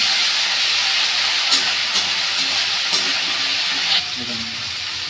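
Fish bones and chopped green chillies fry in a pan with a steady loud sizzle throughout, a few sharp clinks of a spatula against the pan, and the hiss dipping slightly near the end.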